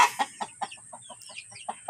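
Free-range village chickens cluck close by in a simple coop in a quick series of short, rhythmic calls, about ten in two seconds.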